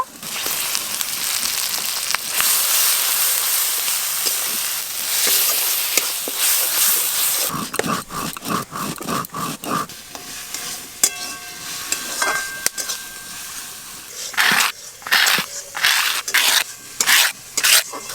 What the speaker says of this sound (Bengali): আদা রসুন পেঁয়াজ একসঙ্গে ভালো করে ভাজা ভাজা হয়ে গেছে